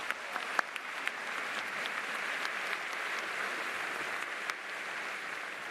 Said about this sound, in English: Let's have a round of applause for each of these leaders.